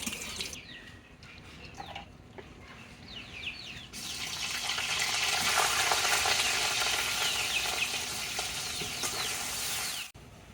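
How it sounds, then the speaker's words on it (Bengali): Fish pieces with eggplant and potato frying in a pan, a steady sizzle that grows louder midway with occasional stirring scrapes, then cuts off abruptly near the end. "এবার আমি বেগুন আলু দিয়ে বাকি মাছগুলো রান্না করে নেব"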